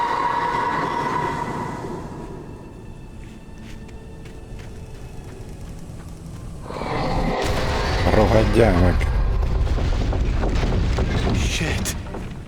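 A railway wagon crashes down in the Alan Wake Remastered video game, a sudden loud crunching rumble with metallic clatter that follows quieter ambience, while someone speaks over the scene.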